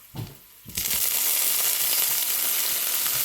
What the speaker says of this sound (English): Time to dump in the tomatoes.